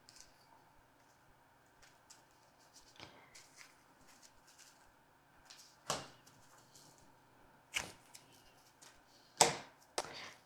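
Scissors cut something off a pressed flower pumpkin craft, making a few faint, sharp snips spaced several seconds apart in a very quiet room.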